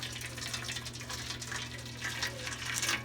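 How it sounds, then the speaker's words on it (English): Hot boiling water pours into a small pan in a kitchen, a soft continuous gushing splash over a low steady hum, fairly quiet and close, with no voices. "I put hot boiling water"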